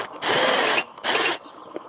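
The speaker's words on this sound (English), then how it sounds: "what I've used is this is a centre drill" A centre drill deburring the inside of a freshly cut metal tube end for crimped wire railings, giving two loud sustained bursts of whirring drill noise with a short pause between, no talk.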